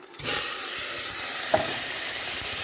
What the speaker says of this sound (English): I'm going to fry the rice for a couple of minutes.